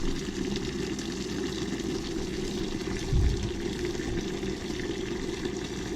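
Water drains out of a steam boiler in a steady low gurgling rush, with one brief heavier gush partway through and no voices.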